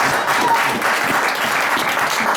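Congregation in a church clapping and cheering, a dense, steady wash of applause that stays loud and continuous throughout.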